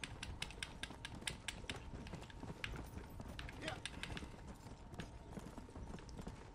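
A horse gallops in the video game Red Dead Redemption: Undead Nightmare, its hoofbeats drumming in a fast, steady clip-clop rhythm over a constant background hum, with a low voice faintly present.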